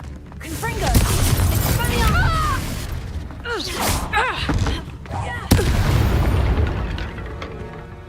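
A Confringo blast spell in the Hogwarts Legacy video game lands as several loud booming bursts, mixed with spell effects and chirping tones, with a sharp hit near the end and voices speaking throughout.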